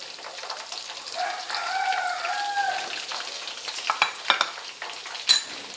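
Churumuri masala with turmeric powder being stirred in a pan, a soft continuous scraping and light sizzle with a few sharper knocks near the end, no voices.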